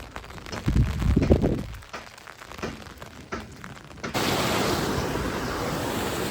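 Floodwater rushing through a village river after 8 inches of heavy rain in Mehsana district, heard as a loud, continuous broadband roar that grows steady and dense after a few seconds of gusty, uneven noise.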